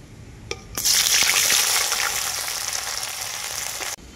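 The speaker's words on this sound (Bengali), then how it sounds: "তেলটাও খুব ভালোভাবে গরম হয়ে গেছে। পনিরগুলো এখন তেলের মধ্যে দিয়ে দেবো।" Paneer pieces drop into hot oil in a pan and set off a loud, steady sizzle that swells up suddenly and holds for several seconds before cutting off, with no talking.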